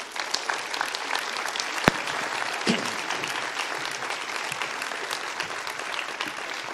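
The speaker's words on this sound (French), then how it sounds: "je vous propose d'accueillir et d'applaudir Vincent, le professeur Vincent Castronovo" A conference audience applauds a professor as he is introduced for an epigenetics talk, a steady sustained round of clapping filling the room with one or two sharper claps standing out.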